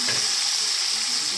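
Red tomato and spices frying in a pan, a steady bright sizzle with constant hiss, close and unbroken, no talking.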